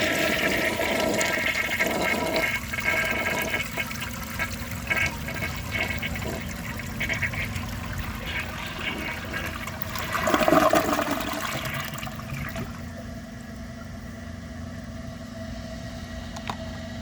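A 1975 Kohler Highline toilet flushes with a strong rushing swirl of water that surges midway, then settles into a quieter refill trickle toward the end.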